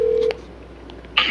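A single steady telephone dial tone at the start of a phone call, loud and unbroken for about a third of a second, then a brief quiet gap before a short, bright electronic beep near the end.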